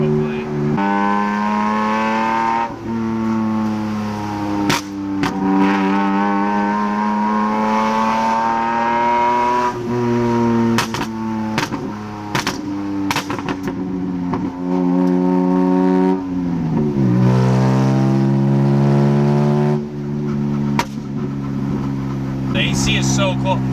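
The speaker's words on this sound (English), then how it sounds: "It's just really scary to think that it can actually get louder than this." Loud, droning engine noise from a BMW M3 GTR while driving, with rising and falling tones as the revs change. Sharp clicks and knocks cut through it, and a voice speaks over the engine.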